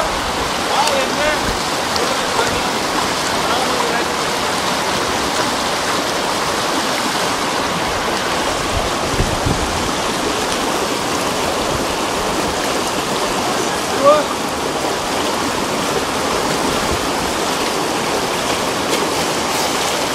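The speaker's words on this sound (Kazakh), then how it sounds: "Әрине таза таудан келген су." Clear mountain stream water rushing outdoors near a village, a loud continuous broadband flow with a steady churning texture throughout, no voices heard over it.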